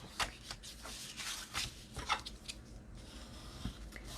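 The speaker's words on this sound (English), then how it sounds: "So this is the 6-inch score line. We're going to fold this down." A paper box is folded down along a score line, making soft crinkling and sliding paper rustles with a few sharper creases, close and quiet.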